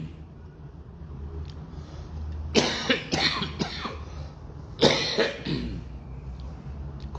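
Two separate bursts of coughing, each a quick cluster of harsh coughs and throat clearing, break through a quiet room during a church sermon.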